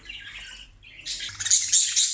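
A female budgerigar squawks repeatedly and loudly as it is caught by hand, harsh chattering calls growing busier and louder toward the end, with no talking.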